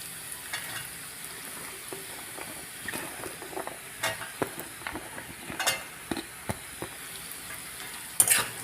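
Green beans stirred and fried in a wok with onion and carrot for mixed fried rice, giving a steady low sizzle broken by scattered scraping clicks of the spatula, with a sharper clatter near the end.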